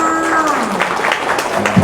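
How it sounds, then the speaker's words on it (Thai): A crowd at a shopping-mall opening ceremony in Buriram applauds to welcome guests. A voice trails off at the start as moderate, uneven clapping builds and carries on alongside. "ขอเสียงปรบมือค่ะ"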